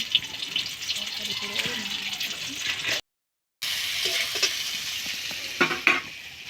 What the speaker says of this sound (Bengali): ডিমগুলো এখানে ভাজা হচ্ছে